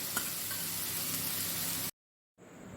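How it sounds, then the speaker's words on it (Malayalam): Cooked green gram stirred with melted jaggery in a pan gives a steady sizzling, scraping hiss that stops abruptly, then a quieter stretch resumes after a short silence. "ഇനി ഇതെല്ലാം നന്നായിട്ട് മിക്സ് ചെയ്ത ശേഷം ഈ ശർക്കര പയറിനകത്ത് പിടിക്കണം അതുവരെ നമ്മൾ ഇളക്കിക്കൊണ്ടിരിക്കണം"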